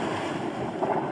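Strokkur geyser in Iceland erupting, a brief, dense rush of water and wind-blown roar without any voices.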